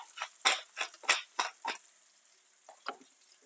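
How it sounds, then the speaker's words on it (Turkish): Onions sautéing in a pan as they are stirred, giving a run of six close scraping, sizzling bursts that fade, then two softer ones after a quiet pause. "Soğanlarımız bir 6-7 dakikada çok güzel kavruluyor."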